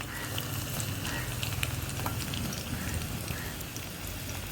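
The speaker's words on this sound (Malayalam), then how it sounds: "വെളിച്ചെണ്ണ തന്നെ കുറച്ച് ഒഴിച്ച് കൊടുത്തിട്ട് ഞാനിവിടെ ചെറിയ ഉള്ളി ഒന്ന് കുറച്ച് വറവിടുന്നുണ്ട്." Shallots fry in coconut oil in a small pan, a steady faint crackling sizzle with scattered pops throughout, no voices.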